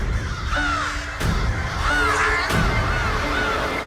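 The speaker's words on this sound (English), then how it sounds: "Like even now with the crows" Several crows caw in rough bursts, one harsh call after another with short pauses in between, fairly close and loud over a steady outdoor background.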